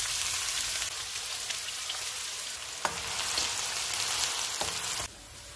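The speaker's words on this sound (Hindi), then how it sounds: "ऑयल गर्म हो गया है, इसमें एक प्याज डालेंगे और गोल्डन फ्राई करेंगे।" Onion frying in hot oil in a pan at the start of a beef with rice dish: a steady, crackling sizzle throughout, quiet and close, with a couple of faint clinks and the sizzle dropping in level near the end.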